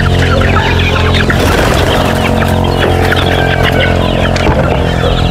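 A crowd of gamefowl chickens clucks and murmurs continuously at close range before feeding, with a steady loud flock chatter and no talking.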